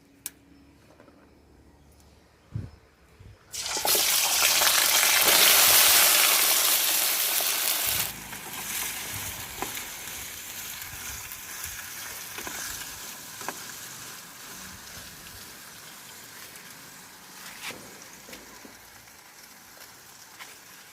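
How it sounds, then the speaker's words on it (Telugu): Chopped vegetables sizzle in a pan over a wood-fired stove for chutney: after a quiet start and a brief clatter, a loud hissing fry swells for several seconds, then settles into a steady, softer crackle. "పచ్చడికండి వేయించాలి ఇవన్నీ"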